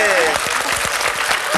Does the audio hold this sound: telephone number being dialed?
no